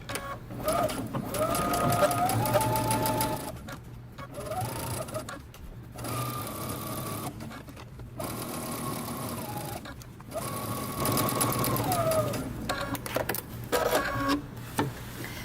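A sewing machine stitches a jeans seam at a 5/8 inch allowance, running in several sustained motor bursts with short pauses between them, moderately loud and close, without talk.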